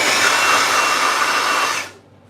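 Forge blower running, a loud steady broadband whoosh of rushing air that cuts off abruptly near the end.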